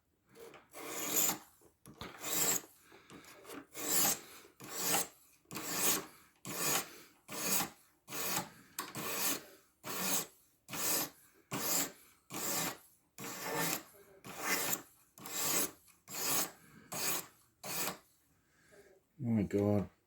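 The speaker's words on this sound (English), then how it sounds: "even with these fairly cheap diamond stones, you can still sharpen S30V" An S30V steel knife blade drawn across cheap diamond sharpening stones, giving a steady run of about twenty rhythmic rasping strokes, close and loud, ending with a brief clatter.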